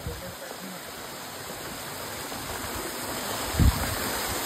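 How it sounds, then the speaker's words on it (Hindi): Small waterfall pouring into a cool pool at a quiet outdoor spot, a steady soft broadband rush of falling water with one brief thump near the end. "छोटा बढ़िया झरना है यार"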